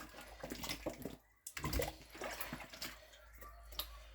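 Cabbage being washed in a basin of water while cooking pumpkin soup, with soft splashing and sloshing throughout, a short pause midway, then continued nearby rinsing and dripping.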